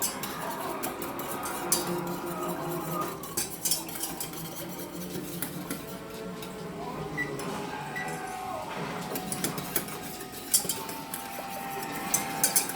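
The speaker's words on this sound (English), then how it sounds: "I'm gonna use a short-handled whisk" A short-handled whisk stirs a cup of hot sauce in a bowl, with steady scraping and clinking against the sides that continues without pause and stays fairly close.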